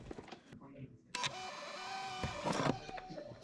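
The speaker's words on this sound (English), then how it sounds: "I bring a portable printer with me to print the price tags." A portable printer runs out price tags at a thrift resale setup, giving a mechanical whirring feed with short clicks and stops, fairly close.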